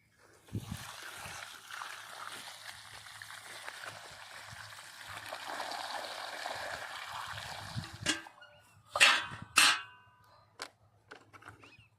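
Water pours and splashes while newly planted guava trees in a Rajasthan orchard are watered, a continuous rushing flow for several seconds, then louder bursts of splashing and clanks, with faint voices around.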